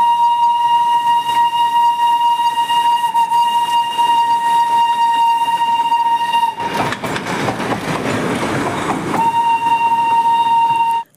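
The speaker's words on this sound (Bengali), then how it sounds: "গিয়ে দেখতে পেলাম এই ডিজেল ইঞ্জিনের টয় ট্রেন" A diesel toy train in Darjeeling blares its horn with a long, steady tone, briefly interrupted by a burst of rumbling engine and rail noise, then sounds again.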